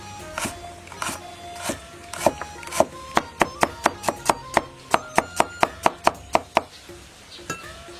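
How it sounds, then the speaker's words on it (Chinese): A knife slices ginger and garlic on a wooden board, a quick run of about twenty sharp, evenly spaced chops, close and clear. "再切点姜蒜片"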